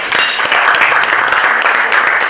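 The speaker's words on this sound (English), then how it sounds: "Again, a big round of applause." A crowd at a Ugandan celebration for the Ghetto Kids dance group claps in loud, dense, continuous applause that fills the whole stretch, close by and without a break.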